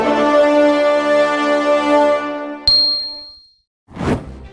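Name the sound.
notification bell ding sound effect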